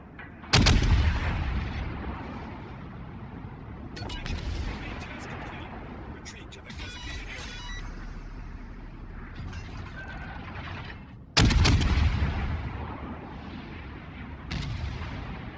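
Heavy naval guns of the cruiser USS Cleveland boom in World of Warships, two loud salvos several seconds apart, each with a sharp blast and long rumbling decay, with scattered distant impacts and mechanical clanks between them.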